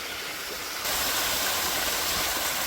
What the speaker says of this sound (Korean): 떨어지는 물소리가 너무 좋아서 여러분께 한번 또 들려드릴게요